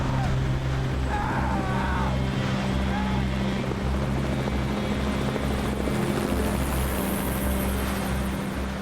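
A rescue helicopter flies overhead with a loud, steady rotor thump and engine drone throughout, close and dominant, while a voice speaks briefly under it.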